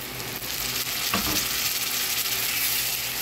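Spices and tomato paste frying in a pan for palak paneer, a dense, close sizzle with a brief stir around the middle, continuous and unaccompanied by speech.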